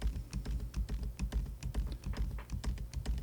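Steady run of crisp computer keyboard keystrokes, a repeated shortcut being pressed over and over in a quick, even rhythm, close and clear with no talking.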